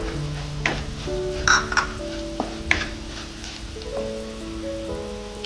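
Coriander powder and spices sizzle and fry in a pan for an Idukki-style fish curry, with steady crackling and a few scraping stirs and utensil clinks close by, no voices.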